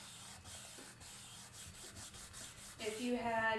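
A wooden violin bow is rubbed and polished by hand with soft, close, continuous friction, ending in a louder, brighter scraping burst.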